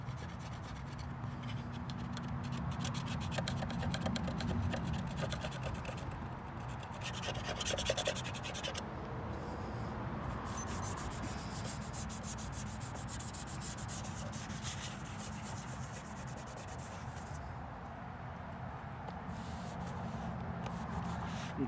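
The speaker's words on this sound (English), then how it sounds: "You just wipe it out like this." Hard grease being wiped out of a Vulcan fryer vat by hand: a steady, continuous rubbing and scrubbing sound with brief louder strokes, close and alone, with no talking.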